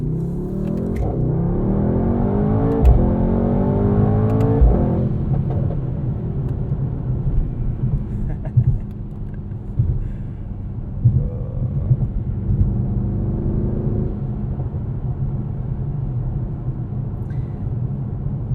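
A 2020 Mercedes-AMG GT 63 S engine hums and rises as the car accelerates in automatic mode, with smooth 9-speed gear shifts and a low rumble continuing steadily; no one speaks.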